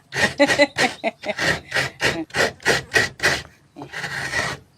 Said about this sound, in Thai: ขูดมะพร้าวก่อน